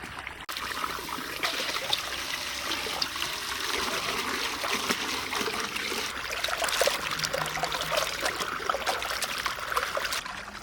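Running water splashes steadily while elephant foot yam pieces are rinsed and rubbed by hand, a continuous close trickle and slosh with no talk.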